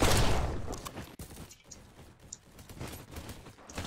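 Rapid gunfire from a Roblox game opens in a dense burst, then breaks into scattered, fainter shots and crackles over a few seconds.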